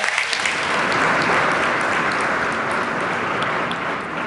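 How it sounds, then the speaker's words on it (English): Audience at a state address applauding, a dense, sustained burst of clapping that swells over the first second, holds steadily, then begins to thin slightly toward the end. "Let's give him a round of applause."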